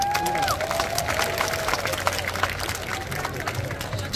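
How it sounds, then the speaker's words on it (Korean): An audience applauds a student group's stage performance at the Pocheon citizens' day community festival, with dense, sustained clapping and crowd noise throughout and a voice over it. "우리 틴트레인에 다시 한번 큰 박수 부탁드리겠습니다."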